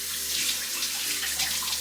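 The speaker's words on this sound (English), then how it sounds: "Dump out the remaining solution and rinse it with clean water." Steady stream of tap water splashing into a sink while the emptied filter housing of an Enagic Kangen Leveluk JR II water ionizer is rinsed clean, a close, continuous hiss with no voices.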